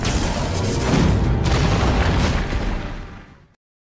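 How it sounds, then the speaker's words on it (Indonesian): A big anime explosion from a magic spell in Solo Leveling, a loud, dense roaring boom that rolls on for a few seconds and then cuts off abruptly. "terbangunkan oleh suara ledakan dari sihirnya Kyuban barusan"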